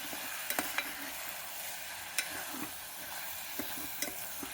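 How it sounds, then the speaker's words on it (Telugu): Vegetables, spices and rice for pulao are stirred in a pan with a faint sizzle, a spoon scraping and clicking at irregular intervals, quiet and close with no talking. "మసాలాలు కాయగూరలు అన్నీ కలిసేట్టుగా కలుపుకోవాలన్నమాట పూర్తిగా"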